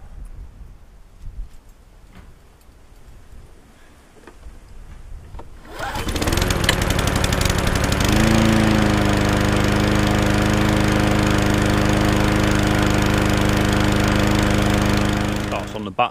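A serviced Honda lawn mower engine starts and runs, a quiet stretch of handling gives way to a sudden loud start and a steady, throbbing idle that settles and holds, close by.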